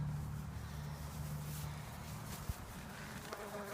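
Honeybees buzz in a low, steady drone while being installed into a Warre hive outdoors, faint and continuous, with a brief knock midway.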